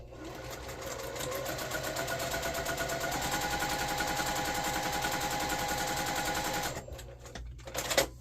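A sewing machine runs steadily for several seconds as it stitches a diamond table runner with a scant quarter-inch seam, a continuous whirring drone that cuts off near the end, followed by a few faint handling clicks.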